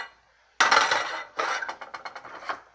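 Beans are stirred in a pot with a bamboo spoon, giving a loud scrape and clatter followed by a quick series of rhythmic wooden scrapes and knocks against the pot.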